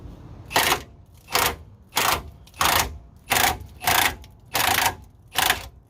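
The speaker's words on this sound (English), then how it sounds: "He's going to loosen it with the impact much faster that way." An impact wrench with a 21 mm socket works loose a rear shock absorber bolt on a 2007–2014 Chevy Tahoe. About eight short, sharp rattling bursts repeat at a steady rhythm, close and loud, with brief quiet gaps between them.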